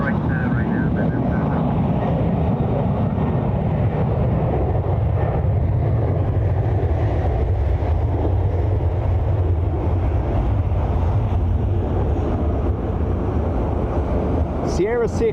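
A Ryanair jet taking off from runway 10 right at Dublin Airport on a windy day: a steady, loud engine roar swelling and holding throughout, mixed with gusting wind buffeting the microphone.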